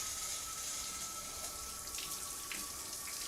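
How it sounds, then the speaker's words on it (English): Water from a shower runs in a steady, faint hiss with a few soft splashes, heard from a distance with no voices. "I heard him get into the shower."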